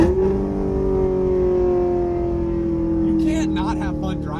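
A Lexus RC F V8 engine holds a steady, loud rev with a strong harmonic drone that eases slightly, while a voice talks briefly near the end over the engine.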